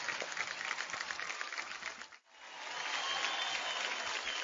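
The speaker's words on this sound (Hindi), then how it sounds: "जोरदार तालियां पवनदीप के लिए।" A studio audience on the Indian Idol singing show applauds contestant Pawandeep with sustained, dense clapping that dips briefly midway, then swells back to full strength.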